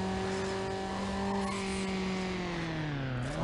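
A car engine in Need for Speed Underground drones at steady, loud revs, then the pitch sags near the end with a hint of tire squeal. No one talks over it.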